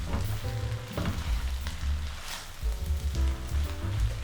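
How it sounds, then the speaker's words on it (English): Shrimp sizzle in butter in a pan while being mixed, a loud close frying hiss with rhythmic stirring scrapes and clatter throughout. "then we'll dump our shrimp back in, just like that, and then mix"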